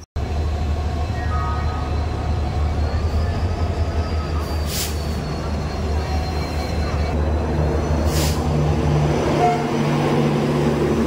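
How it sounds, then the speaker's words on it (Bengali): Howrah Puri Superfast Express rolling into platform 23 at a busy station, a steady low rumble and rail noise running throughout with brief higher squeals, people talking in the background. "আমাদের ট্রেন ঢুকছে এই যে হাওড়া পুরী সুপারফাস্ট এক্সপ্রেস 23 নম্বর প্ল্যাটফর্মে।"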